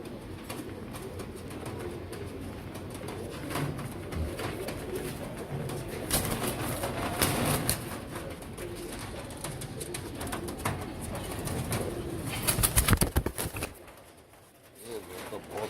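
Royal Teddy pigeons cooing softly in a loft, low murmuring coos under someone talking, with some rustling and clatter nearby.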